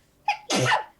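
A single person sneezes during a tabletop role-playing session in ragweed pollen season, a quick sharp intake followed by a loud, close burst, with no talk over it.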